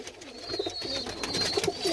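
Tumbler pigeons coo in soft repeated low throaty calls close by, with light fluttering and shuffling around them and no voices.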